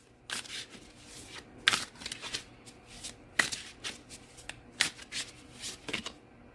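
Tarot cards being shuffled by hand, quiet and close, with repeated soft riffling bursts and crisp snaps spaced irregularly across a few seconds, with no voice.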